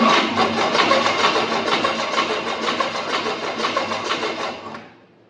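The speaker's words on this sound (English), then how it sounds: "We're gonna spin it over and see what it does." A 1976 Chevrolet Nova engine cranks steadily on its starter off a jump box, a fast rhythmic whirring chug that runs for about five seconds without catching, then stops.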